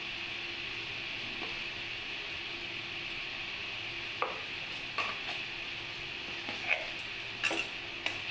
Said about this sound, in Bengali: দিয়ে ভালো করে কষে নেবো মশলাটা